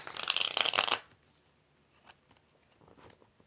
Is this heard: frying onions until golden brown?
no